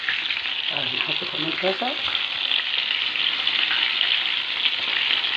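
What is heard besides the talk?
crispy fish frying in oil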